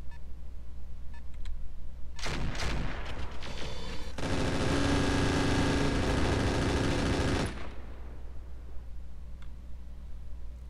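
Weapons fire rakes turrets in the Roguetech mech game, a loud close fusillade of rapid machine-gun-like shots and a sustained roaring blast lasting a few seconds before fading to quiet background hum.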